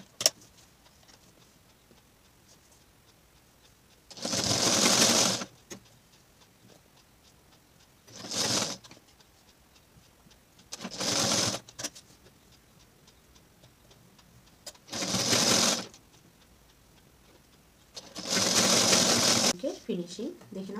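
Sewing machine stitching a folded fabric strip along a square neckline, running in five separate bursts of a few seconds each, separated by quieter pauses with faint handling sounds.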